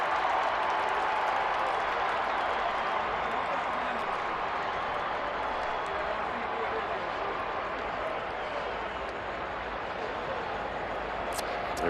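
A stadium crowd at an Alabama vs Florida SEC Championship football game roars in a steady, loud, unbroken wash of cheering that holds throughout.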